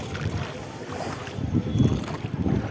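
A boat carrying a family moves across a river, with steady water wash and engine-like rumble mixed with gusty wind buffeting the microphone, close and continuous.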